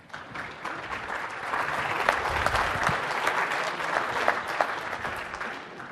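Tech conference audience giving a round of applause, steady dense clapping that swells from a quick start and holds for several seconds, moderately distant.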